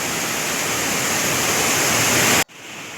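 Water rushes loudly and continuously at a dam, a dense roaring wash close by that cuts off abruptly near the end.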